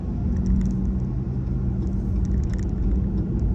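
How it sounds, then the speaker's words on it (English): A Ram 1500 pickup's Hemi V8 engine runs close by with a deep, steady rumble that holds throughout, with no talking over it. "Listen to that Hemi"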